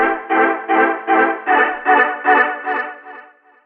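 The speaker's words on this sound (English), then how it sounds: "I'm going to bring in Logic's new reverb plugin, Chromaverb." Synth chords pulse in a rhythmic pattern of about eight short stabs, each swelling and decaying through Logic's Chromaverb reverb plugin, with a washy tail fading out at the end in a beat remake.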